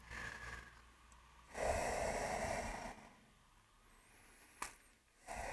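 Slow breathing during a yoga exercise: a long, soft inhale swells, then fades into a gentle exhale, with a brief sharp sniff near the end, all quiet and close in a calm room.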